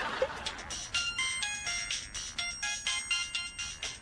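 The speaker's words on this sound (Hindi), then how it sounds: "अंगूरी को फोन है," A mobile phone ringtone plays a bright, repeating electronic melody of quick high notes in regular bursts, fairly close, with faint background noise underneath.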